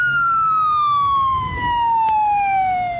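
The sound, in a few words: police car siren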